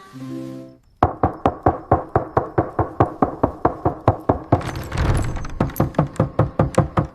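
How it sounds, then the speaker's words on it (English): Knocking on a door in an animated story: a long, steady run of about two dozen loud, close knocks, briefly blurred by a burst of noise partway through. "The knock-knock sound."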